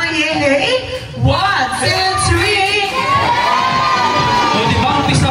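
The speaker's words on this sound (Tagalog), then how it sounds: "Muna tayo tatlong palakpak na may kasama yay." Children at a Jollibee party celebration shout and cheer loudly together as a crowd, a continuous noisy burst of young voices; individual claps are not distinct under the cheering.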